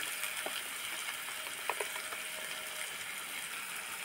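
Onion frying with a sprinkle of sauce powder in a pan, a soft steady sizzle and crackle running throughout at a low level, with a few small clicks and pops near the middle and no voices.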